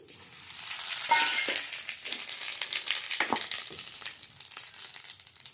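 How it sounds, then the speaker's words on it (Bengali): Dried red chillies and cumin seeds sputter in hot oil over a wood-fired stove, a dense, steady crackling sizzle with scattered pops and stirring scrapes, close and continuous with no talking. "এই যে শুকনো লঙ্কা জিরে ফোড়ন দিচ্ছি"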